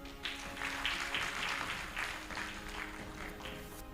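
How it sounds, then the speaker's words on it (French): Audience at a Who's Who Talk event applauds, a dense, steady burst of clapping that carries through the whole four seconds with no voices over it. "Je pense qu'on peut applaudir ça."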